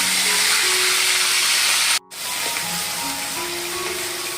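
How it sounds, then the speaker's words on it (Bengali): Dried chillies frying in a pan for doi rui (fish in yogurt gravy), giving a steady hiss and sizzle with a brief gap partway through, close by with no talk. "এখন এটা 1 মিনিট আমি ভালো করে ভেজে নেব।"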